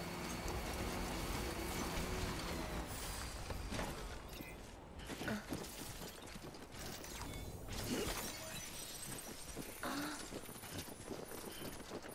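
Rain falls in the Death Stranding video game, a dense steady hiss of downpour mixed with clattering, crackling game effects and rumbling, continuous throughout with no talk.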